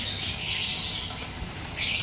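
Bird squawks ring out in sharp, high bursts, a couple of loud calls near the start and another near the end, with faint outdoor rumble beneath.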